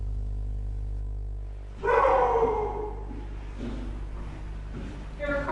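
A dog barks once loudly and close after a steady low hum, followed by softer whines and yips, with faint voices in the background.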